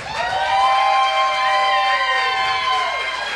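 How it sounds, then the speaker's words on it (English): Live audience cheering and whooping in a round of applause voting for a contestant, a loud, steady crowd roar of voices with sustained shouts filling the whole stretch. "A round of applause if you would like to vote for Billie Jean Dean"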